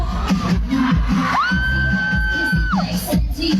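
A crowd at a public appearance in Roxas City, Capiz, shouts and cheers in a dense, continuous roar, with a long high whoop or whistle rising above it midway through.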